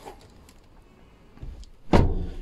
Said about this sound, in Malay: pintu nak tutup ketat sikit